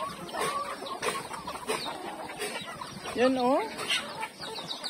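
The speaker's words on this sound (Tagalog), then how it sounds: "Ang dami lang manok, my gosh." Chickens cluck and a rooster gives short calls at a rural home in the Philippine province, several birds close by amid brief overlapping speech from people nearby.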